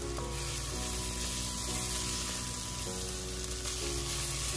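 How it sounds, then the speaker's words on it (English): Onions, garlic and lemon zest fry together in a pan for lemon chicken, giving a steady, close sizzle that runs unbroken throughout with faint clinks and stirring underneath. "the lemon zest, all cooking together till lightly brown"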